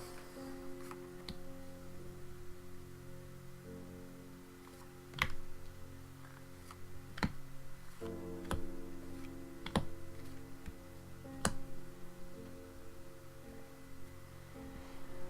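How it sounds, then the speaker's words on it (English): Tarot cards are dealt onto a surface after the deck is cut, giving five or six sharp, soft snaps spaced a second or two apart over quiet, steady background music. "Cut the deck, and we'll deal out 6 cards."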